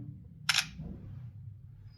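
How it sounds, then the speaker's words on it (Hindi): An Oppo A58 phone's rear camera shutter fires once, a short, bright click burst standing alone over a low room hum. "तो सबसे पहले एक पिक्चर में क्लिक कर लेता हूँ।"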